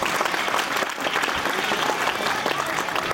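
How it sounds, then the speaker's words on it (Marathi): An audience claps steadily and densely at an award ceremony honouring martyrs and ex-servicemen, a full, sustained wash of applause from a large crowd. "त्या टाळ्या कमी नका होऊ देऊ"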